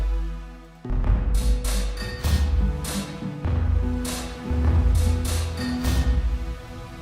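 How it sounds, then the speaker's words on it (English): Sustained strings hold a single droning note while drums hit in an irregular pattern, both fairly loud and close, with no voices. "these strings are droning the same note all the way to the same chord"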